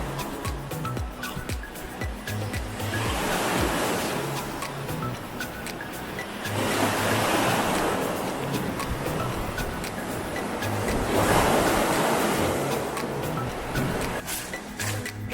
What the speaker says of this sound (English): You just have to time it with the waves.